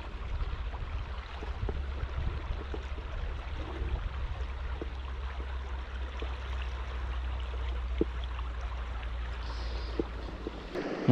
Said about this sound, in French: Donc là il y a une belle cascade.